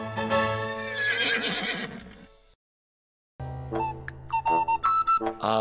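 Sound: horse neighing

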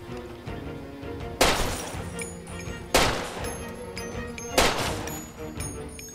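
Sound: gunfire from the video game Far Cry 2

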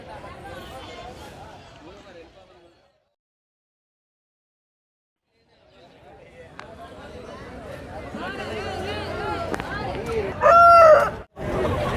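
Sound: roosters crowing at a country chicken market

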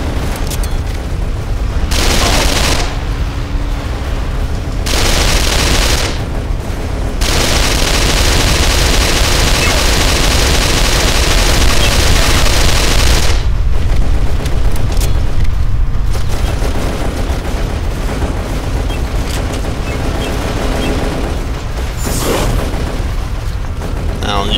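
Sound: heat-seeking weapon firing in video game Darkest of Days

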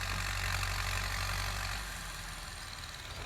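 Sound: Ford 7740 tractor engine idling

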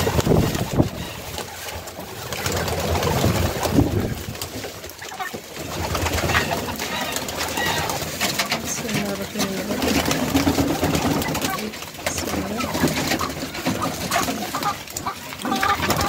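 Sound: pigeons cooing

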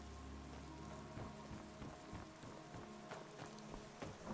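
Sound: rain in the video game Skyrim

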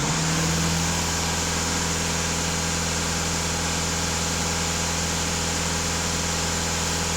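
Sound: VW TDI diesel engine idling

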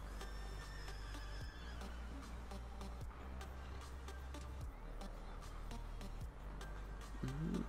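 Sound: horse jumping and neighing

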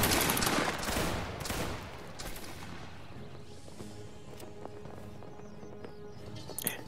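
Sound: volley of musket fire by grenadier reenactors

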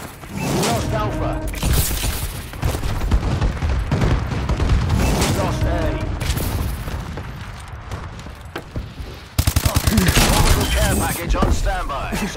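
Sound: bombing run explosions in Call of Duty: Advanced Warfare video game

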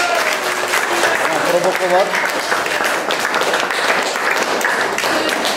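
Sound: children clapping

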